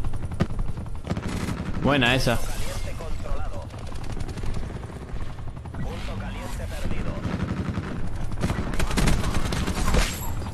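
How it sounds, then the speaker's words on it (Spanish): In Black Ops 4 online gameplay, a helicopter fires with bursts of machine-gun fire amid continuous battle noise and rotor sound, while players talk over it. "Ahí está el helicóptero."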